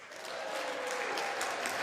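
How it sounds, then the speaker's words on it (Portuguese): Sustained applause from members of Congress during President Biden's address, a dense, steady wash of clapping that fills the space evenly from start to finish. "foi aplaudido até por parlamentares do partido de oposição"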